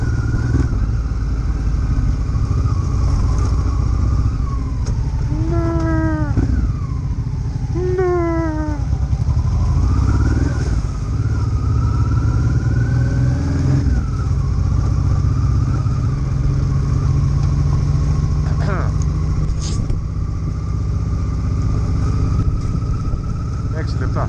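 Honda Africa Twin 750 motorcycle riding a road toward a waterfall, its steady engine drone and rumble continuous throughout, with brief rising whine-like tones and a sharp clatter near the end.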